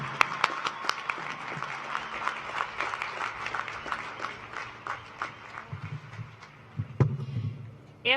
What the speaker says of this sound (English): Please join me in applause to acknowledge all of these students